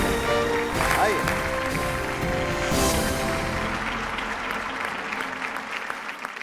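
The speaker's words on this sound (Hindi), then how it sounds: "इस मंच पे तालियां।" A studio audience on a television game show applauds steadily to welcome six contestants onto the stage, a dense sustained wash of clapping that gradually fades toward the end.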